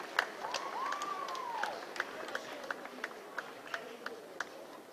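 At a men's 1500 metres finish in a decathlon, a crowd gives warm, steady applause with scattered sharp claps, heard at a distance under a commentator's voice.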